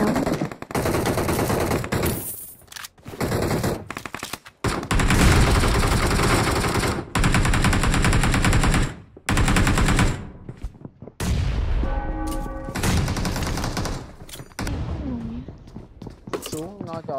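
M249 machine gun fire in a video game on the Graffiti Street map, long loud sustained bursts of rapid shots with short gaps between them, mixed with people talking throughout.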